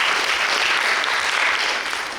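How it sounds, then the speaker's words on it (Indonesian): A church congregation claps in a dense, even burst of applause that fills the room, then fades slightly at the end. "Tepuk tangan."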